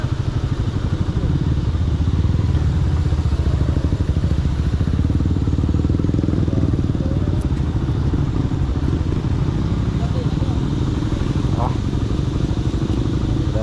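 Motorcycles idle and pass at a roadside checkpoint during a land trip from Luzon to Mindanao, a steady nearby engine drone with clattering, under ongoing voices.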